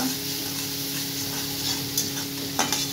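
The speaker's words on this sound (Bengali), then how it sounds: "হলুদ দিয়ে দিলাম, লঙ্কার গুঁড়ো দিয়ে দিলাম, ভালো করে কষিয়ে নেব।" Turmeric and red chili powder fry in a pan for an egg curry, giving an even, close hiss of sizzling with a low steady hum beneath and a couple of light spoon clicks near the end.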